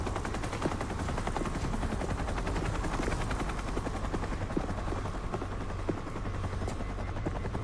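Helicopter rotor roar from a zombie action movie, steady and loud throughout, mixed with bursts of machine-gun fire and no speech.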